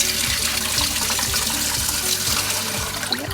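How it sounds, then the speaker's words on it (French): Water poured into a sterilizer pot to cover jars of homemade venison terrine, a steady close, loud rushing and splashing flow with no pauses. "Maintenant on va couvrir d'eau"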